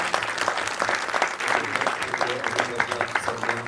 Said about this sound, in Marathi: प्लीज एकदा यांच्यासाठी जोरदार टाळ्या.